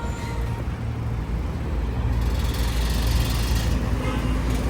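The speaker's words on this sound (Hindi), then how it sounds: "थोड़ी बहुत आवाज़ एग्जॉस्ट कर रहा है नीचे से" A modified Honda City on 17-inch alloys and adjustable coilovers runs with a slight exhaust noise from underneath, a steady low engine drone that grows slightly louder midway, with no talk.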